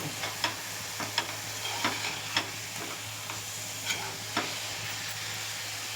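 Garam masala being stirred into a stuffed eggplant curry in a pan, a low sizzle under regular scraping strokes of a spoon, close and quiet, with no talking.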